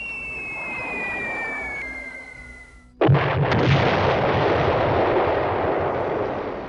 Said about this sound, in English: The 97th drops her bombs.